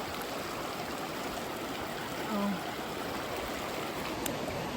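Steady rushing of river water flowing behind a house in Japan, a broad continuous wash heard alone apart from one brief spoken exclamation.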